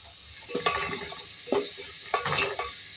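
Whole spices (white cumin, cloves, green and black cardamom, cinnamon) frying in oil: a constant thin sizzle with three bursts of spatula clatter against the pot, close and moderately quiet.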